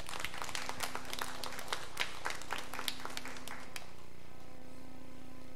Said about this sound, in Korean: 2분 박수 한번 쳐줘봐요.